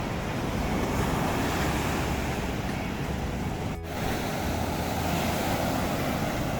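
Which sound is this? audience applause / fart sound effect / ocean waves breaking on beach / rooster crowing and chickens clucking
ocean waves breaking on beach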